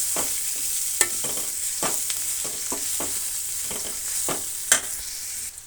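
Grated coconut is stirred into a sizzling tempering for upma. A steady hiss of frying runs under repeated scraping strokes of a spoon against the pan, close up, with a couple of sharper clinks and no talk.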